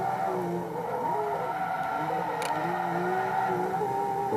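Car drifting in the Forza 2 racing game, tires squealing in wavering sustained tones over a steady engine drone, loud and continuous without pause.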